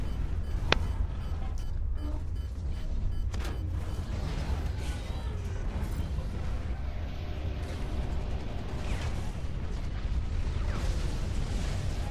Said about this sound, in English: I hear lots of gunfire